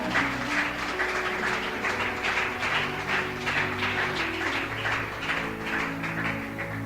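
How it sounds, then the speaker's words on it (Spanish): A church congregation applauds steadily, a dense wash of clapping with music sustained beneath it, filling the hall without a break. "Dele un aplauso al Señor Jesucristo"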